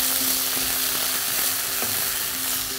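Ginger garlic paste is stirred into frying onions on low flame, a constant close sizzle with a spoon scraping and tapping against the pan in an irregular rhythm.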